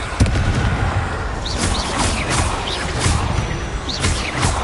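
Explosive fire-spell blasts crackle and boom repeatedly amid continuous loud battle noise in Hogwarts Legacy combat, with no talking.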